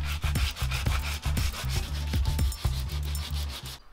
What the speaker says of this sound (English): I'm currently sanding down the putty edges.